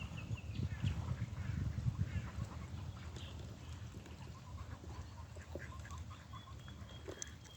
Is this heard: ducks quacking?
yes